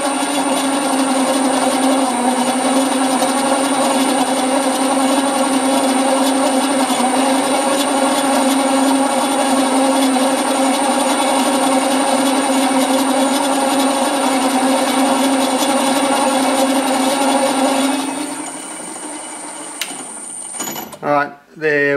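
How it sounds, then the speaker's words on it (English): A drill press fitted with a pull-gear speed reducer runs at about 200 RPM, giving a loud, steady mechanical hum and whine for most of the stretch. It then winds down into a few faint clicks and knocks. "I should be getting about 200 RPM at the drill bit. So let's just see what that sounds like."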